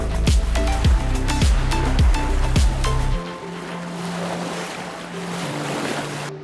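A sailboat moves over ocean waves off Monu Island in Fiji, with rhythmic thumping of the hull and rigging over wind buffeting, then a steadier rush of water and wind.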